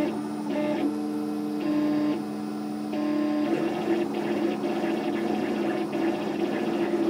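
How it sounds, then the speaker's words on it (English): A scratch-built DIY 3D printer runs a small test part, its stepper motors whining in steady tonal bursts that shift pitch as the head changes moves, close and continuous with no talk. "we're printing at 80 millimeters per second for the infill"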